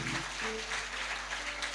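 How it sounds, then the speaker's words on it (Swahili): A church congregation claps for Jesus during a prayer and deliverance service. The applause is continuous and dense across the room, with a low steady hum and faint tonal sounds in the background. "Sipige Yesu makofi"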